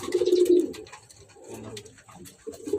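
Racing pigeons in a breeding loft give soft, throaty coos in short bursts, close by, with brief pauses between calls and faint rustling.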